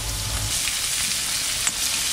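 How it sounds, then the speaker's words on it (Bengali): Potatoes fry in hot oil with a close, even hiss and crackle, one brief sharper pop standing out in the short burst of sizzling. "তেল দিচ্ছি, আলুটা ভেজে নেব।"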